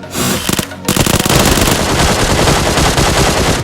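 Rapid bursts of automatic gunfire in PUBG, loud and close, with a brief pause before sustained firing continues over dense game action sounds.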